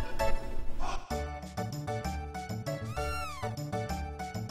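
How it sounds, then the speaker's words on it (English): A cartoonish cat meows repeatedly in the video game Chrono Trigger, clear tonal mews with rising and falling pitch over bouncy chiptune-style game music, no talk. "Come here, cat!"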